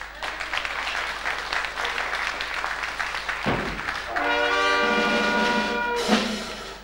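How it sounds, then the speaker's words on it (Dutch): A crowd claps loudly and continuously, a dense patter of applause that builds and carries on as a brief tonal sound cuts in near the end. "Geef er maar een applaus voor, want die doet dat schitterend."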